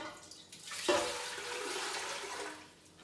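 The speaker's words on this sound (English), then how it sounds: "We're gonna put our 8 cups of water" A stream of water pours into a cooking pot for Persian rice, a steady rushing splash that starts abruptly, holds for a couple of seconds and then tapers off, close and fairly quiet.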